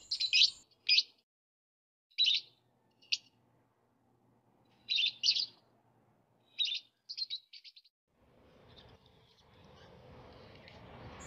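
Caged lovebirds give bursts of high, sharp chirps in quick clusters, close and clear with quiet gaps between. A broad rustling hiss rises near the end.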